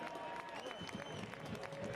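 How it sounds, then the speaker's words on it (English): A stadium crowd at a soccer match between Forward Madison FC and Richmond Kickers claps and cheers in a steady, distant wash of applause, with a voice talking over it. "it is a loud applause for Kenny Kanyane"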